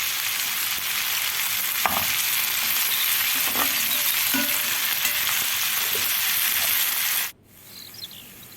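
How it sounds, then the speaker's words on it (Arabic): Chicken with onion, green peppers and spices sizzles loudly in a pan while being stirred, with occasional utensil scrapes, before the frying noise suddenly drops away near the end. "هنقلب تقليبة كده خفيفة لحد ما الفراخ تاخد طعم البصل والفلفل والتوابل"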